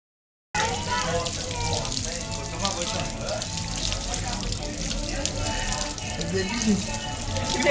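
Water running steadily from a tap while a pet is bathed, a constant close splashing rush starting abruptly and continuing throughout, with people talking over it.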